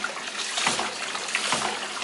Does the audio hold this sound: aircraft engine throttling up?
no